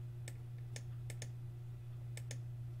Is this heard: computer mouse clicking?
yes